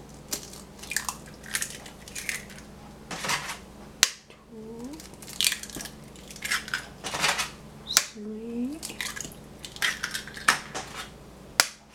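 Eggs being cracked into butter cake batter: several sharp cracking taps, then shells pulled apart and egg sliding into a bowl, close and fairly loud, with soft voices now and then.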